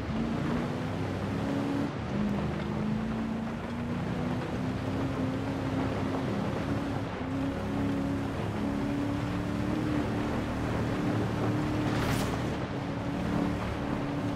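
A 6x6 truck built for the Australian Army drives on in Forza Horizon 4. The low engine drone holds a steady pitch with a gradual rise, steady and moderately quiet over road rumble, with no voices.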